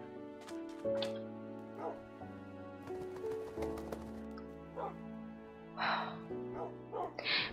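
A dog barks from inside a well in a survival video game, with several short yips and barks over sustained in-game music tones.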